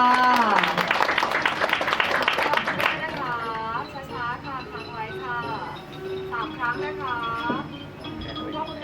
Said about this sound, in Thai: ขอเสียงปรบมือหน่อยค่ะ